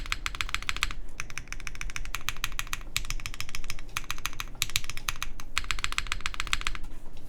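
A mechanical keyboard with long pole switches clacks in quick bursts of typing with crisp bottom-out strikes, close and clear, separated by brief pauses.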